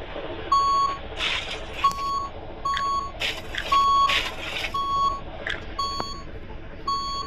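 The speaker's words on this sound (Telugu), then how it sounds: "ఆహా ఎంత స్మూత్గా వెళ్తుందిరా ట్రక్." A truck on a road trip from Hubli to Mahabaleshwar gives off a steady run of about seven evenly spaced reversing beeps over a continuous low engine and road rumble, with scattered brief clatters in between.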